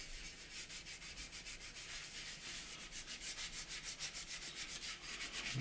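Repeated rapid rubbing strokes wipe weathering wash back across a model aircraft wing, a soft, close, rhythmic scrubbing with no talk.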